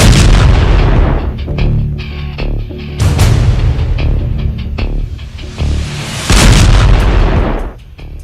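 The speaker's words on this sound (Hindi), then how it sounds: "फिर देखिए B-61 बम कैसे लॉन्च किया गया।" B-61 nuclear bomb launch and detonation, a bomb developed in the 1960s and dropped from aircraft: a dense, continuous roar of booming, crackling blasts that swells loud again near the end before dying away, with no voices.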